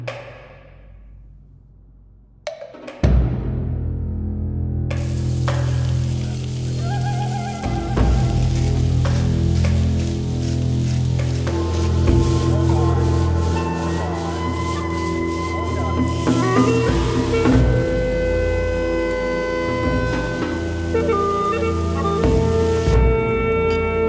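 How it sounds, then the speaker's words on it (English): Beef bulgogi meat hits a hot pan after a brief quiet, then fries with a loud, steady crackling sizzle that continues to the end. "We are going to pan fry both of these separately."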